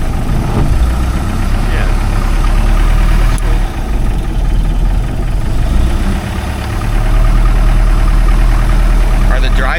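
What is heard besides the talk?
classic speed boat engine idling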